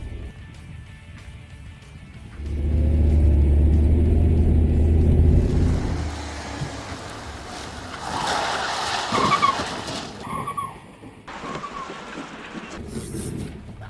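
A van skids through a 180-degree Rockford spin, its tyres screeching under a loud engine rumble that swells, holds for a few seconds and fades into rougher driving noise.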